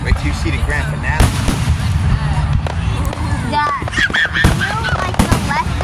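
Fireworks explode outdoors in a display, with several loud, booming bursts and crackles landing at irregular intervals over a continuous rumble of noise.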